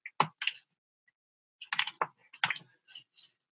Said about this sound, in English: Just going to click move page.